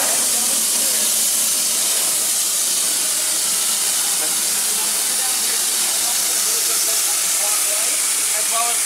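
A Disney steam train lets off a loud, continuous hiss of steam, a steady rushing spray that runs unbroken, with faint voices in the background.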